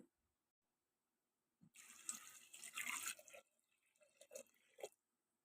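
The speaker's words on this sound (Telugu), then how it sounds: "ఇందులోకి వాటర్ వేసుకోవాలండి" Water pours from a tap or vessel into a cooker pot holding dal, tomatoes, green chillies, salt and turmeric, a short splashing stream after a silent start, then a few drips and clinks.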